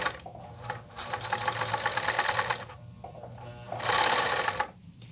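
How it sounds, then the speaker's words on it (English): A sewing machine blind-hemming suit pants runs close up in two steady bursts of rapid stitching, with a brief pause between them and a short stop at the end. "as we move slowly, we can watch that needle picking up the edge of the fabric right in there in the channel"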